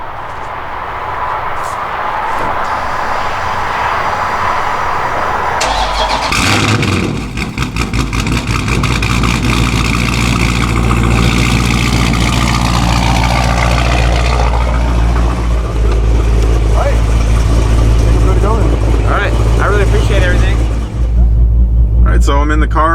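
A car with a 426 engine cold-starts with a whirring crank, then catches and settles into a loud, deep, lumpy idle that rumbles on steadily while people talk nearby.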